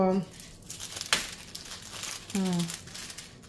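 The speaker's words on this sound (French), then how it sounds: "J'essaie de tirer la toile comme ça pour..." Diamond painting canvas crinkles and rustles as it is pulled to smooth out a crease, with sharp crackles between short spoken phrases close by.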